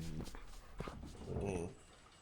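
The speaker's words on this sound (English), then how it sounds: "This is the dog." A dog whimpers in the Mystery Mansion video game, a few short whining yelps followed by a longer drawn-out whine, close and moderately loud over a constant low background hum.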